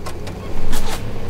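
A car drives in the Fortnite video game, a loud engine rumbling up close with a swell of whooshing noise partway through.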